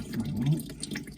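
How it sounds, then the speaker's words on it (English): Scalding hot water running steadily out of an Ariston boiler into a drain point, a continuous close splashing flow with a voice over it. "it's scalding hot water at the moment, but at least it's not coming over the top, it's just coming out into the drain point at the moment."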